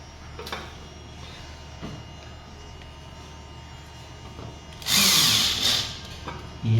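A power driver briefly whirs for under a second as a screw is driven into a COB light fitting, loud and close against a quiet room hum.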